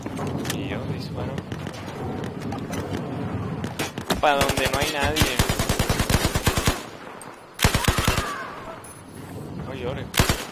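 Rapid automatic gunfire in Battlefield 4 rattles in dense bursts, broken by single shots and a pause, while a player talks over the shooting.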